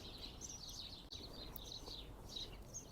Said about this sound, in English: all you can hear out here at the moment is the bird song